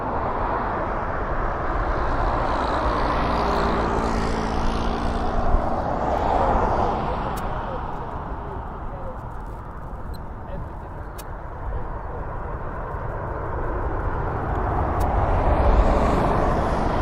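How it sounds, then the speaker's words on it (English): A Ryanair airliner taxis at an airport, a steady broad jet-engine rumble and whine that stays loud and continuous throughout, with faint background talk. "I think there's a Ryanair actually taxiing"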